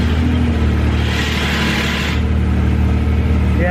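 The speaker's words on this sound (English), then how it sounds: "we're going to go ahead and turn it on and then just rev it a couple times" A 2019 Yamaha YXZ1000R engine runs loud and close right after an oil change, holding a steady rumbling idle with a rise in revs partway through before settling back.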